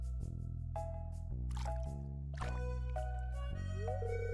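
Hands dipping into liquid in the video game Stardew Valley, heard as a series of wet drips, squishes and plops over a sustained musical backdrop, each splash short and close.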